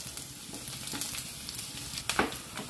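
Onions fry in a pan for lady finger curry with a quiet, steady sizzle, broken by a few soft stirring scrapes and light crackles.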